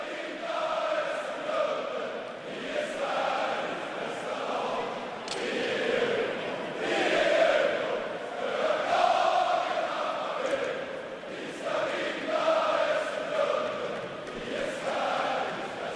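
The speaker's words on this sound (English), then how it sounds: "Great crowd here inside Hovet, reacting to that one as Axel Johnson Fjällby restores that 2-goal lead" Hockey crowd inside Hovet arena during a Djurgården vs Linköping playoff game, a broad, steady murmur and cheering swell from many spectators, with a commentator talking over it.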